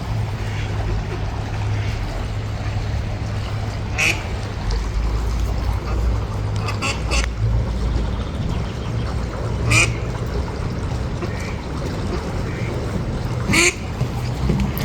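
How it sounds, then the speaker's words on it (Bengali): Ducks quacking in a morning park, several short calls standing out over a steady outdoor background hum, some louder and nearer, with no voices. "এই যে হাঁস উড়ে।"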